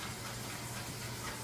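Chili garlic oil and red curry paste frying in a pan, giving a steady, soft, even hiss that holds throughout without breaks.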